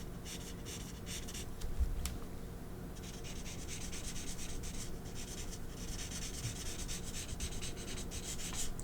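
Chisel-tip marker coloring on paper, with a close, soft, continuous scratchy rubbing in quick back-and-forth strokes.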